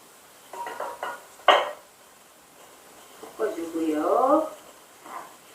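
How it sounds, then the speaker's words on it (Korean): Salad ingredients are tossed gently in a bowl with utensils, giving soft clinks, a sharper knock and a stretch of rustling, scraping mixing, while someone talks over it. "이번에는 이렇게 넣은 재료들을 살살 섞어주고요."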